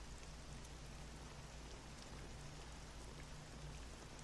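Steady rain falls in the video game Dragon Quest VII Reimagined, in the town of Buccanham. It makes a soft, even hiss of drops on surfaces throughout, with no voices.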